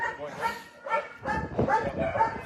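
A dog gives a few short, yipping barks in quick bursts outdoors, with people's voices mixed in around them.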